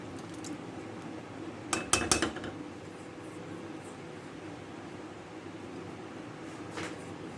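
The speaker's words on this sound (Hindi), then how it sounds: "इसको आस्ता आस्ता मिक्स करते जाएं, लम्स ना बने इसमें।" A spoon stirs chocolate syrup mixture in a pot on a low flame, producing a brief cluster of metallic clinks and scrapes against the pot amid quiet kitchen background hum.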